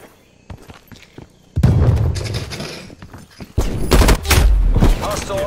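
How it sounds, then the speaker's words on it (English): Artillery strike in the Call of Duty Black Ops Cold War beta: heavy booming impacts with crackling gunfire-like bursts arrive in two loud waves, the second longer and denser, over a quiet start. "Artillery inbound."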